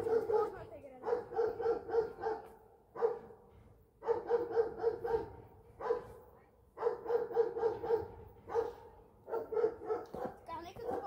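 Several dogs barking in bursts, rapid yaps grouped in short clusters separated by brief pauses, fairly close and clear, with a little whimpering mixed in across the stretch.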